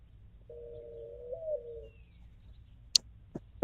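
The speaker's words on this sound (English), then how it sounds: "What's up, Birdie?" A bird on a balcony gives one drawn-out, steady cooing call, then falls quiet, with a few sharp clicks and knocks close by at the end.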